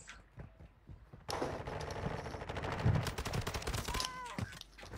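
Rapid bursts of gunfire from the video game Warzone crackle densely through most of the clip, with repeated sharp shots loud in the mix and brief voices nearby.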